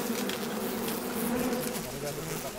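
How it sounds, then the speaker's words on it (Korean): Strong wild bees swarm around an old honey hive, roughly ten years old, in a Jirisan mountain valley, producing a dense, continuous close-up buzzing drone that swells and wavers. "아주 강한 벌이에요"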